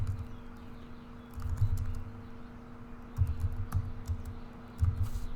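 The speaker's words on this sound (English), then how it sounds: "And then we'll type in our comment." Soft clicks of a computer keyboard come in short bursts while a comment is typed into a machining program, set against a steady electrical hum and faint background noise.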